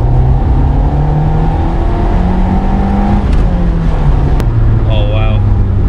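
A 1991 Nissan Pulsar GTi-R engine drones loudly and shifts pitch as it downshifts, with a brief blip of revs near the end.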